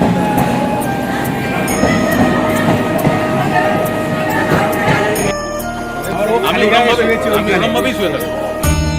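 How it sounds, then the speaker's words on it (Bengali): A train heading from Sealdah toward Budge Budge runs past a station platform with a loud rumbling roll and rattling wheels, as people talk nearby. "শিয়ালদহ দিক থেকে একটি ট্রেন বজবজের দিকে যাচ্ছে"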